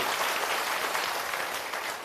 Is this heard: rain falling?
no